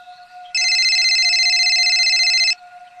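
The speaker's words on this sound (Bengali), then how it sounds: "এই বলে বিকাশ শেঠকে ফোন করে পাশু।" A single loud electronic ring tone, a steady warbling trill lasting about two seconds, clear and close against near silence.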